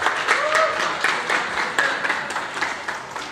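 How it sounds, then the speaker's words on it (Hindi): An audience claps to welcome a guest and his family at a Modicare car-achiever event, with uneven, sometimes distinct claps under faint voices. "तो हम सभी लोग उनका जोरदार तालियों से स्वागत करेंगे।"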